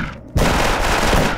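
M4 rifle fire in a video game: after a brief quiet start, a loud, dense stretch of rapid automatic gunfire runs continuously to the end, close and unbroken.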